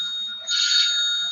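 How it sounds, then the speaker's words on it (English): A mobile phone rings with a bright, steady electronic tone that swells in the middle of the short burst, with no talking over it. "Oh, hang on, guys, that's my phone."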